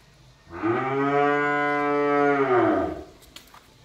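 A single long, deep moo from a one-month-old calf, a Brahman cross out of a local Sahiwal-cross cow, close and loud, holding steady for about two and a half seconds before fading.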